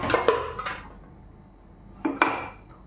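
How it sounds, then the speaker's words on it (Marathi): Steel vessels placed inside a pressure cooker, a few sharp metallic clanks in two short bursts with quiet between, close by and without talk. "आपण ही भांडी आत ठेवून घेऊया."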